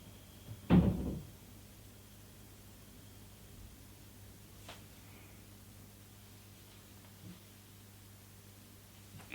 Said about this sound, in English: She can hear all the door banging next door.